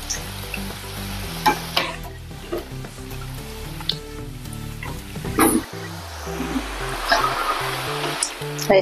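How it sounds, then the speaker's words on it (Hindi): Poha snacks fry in hot oil over a medium gas flame, a steady close hiss and bubbling sizzle with occasional spatter pops and the scrape of turning, beneath background music. "मीडियम गैस पर इसको तलिए"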